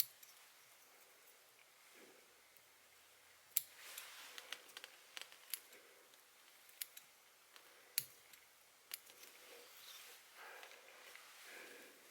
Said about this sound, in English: Just clip the deer hair and not the hackle fibers that are the tail.